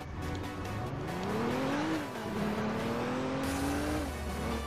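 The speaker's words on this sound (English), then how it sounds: "I'll grab this pickup truck." In the Roblox game ER:LC, a pickup truck engine drones steadily while driving, its pitch rising and falling as it shifts gears over a continuous road rumble, loud and near, with no talk.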